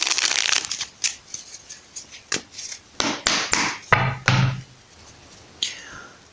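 Crisp papery riffles and soft slaps of tarot cards being shuffled close by, coming in quick bursts with brief pauses between them.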